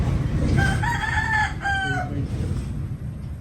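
A gold gamefowl rooster crows once in a clear, loud cock-a-doodle-doo with rising and falling harmonic calls, close by over a steady low farmyard rumble, with no talk.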